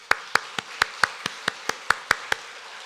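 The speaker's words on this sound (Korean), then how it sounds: "큰 박수로 환영하겠습니다" Slow, rhythmic clapping of about eleven crisp, evenly spaced claps rings out in a church during a Sunday worship service, welcoming a couple, close and distinct, with no talk.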